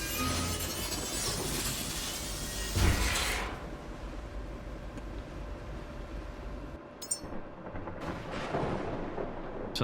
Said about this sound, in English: Sounds like we're going into a thunderstorm by the sounds of it.